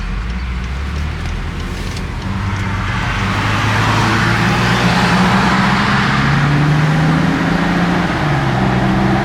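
A BMW X5 E70 with an aftermarket exhaust driving in traffic gives a continuous low rumble blended with road and tyre noise, steady and fairly loud, with no one speaking.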